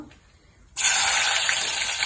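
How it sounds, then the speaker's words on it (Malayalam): Water poured into a cooking pot starts suddenly after a quiet moment, then a steady close gushing splash continues to the end. "ഈ പാത്രത്തിൽ കുറച്ച് വെള്ളം ഇടണം."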